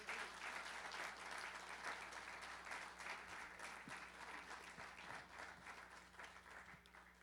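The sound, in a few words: congregation applause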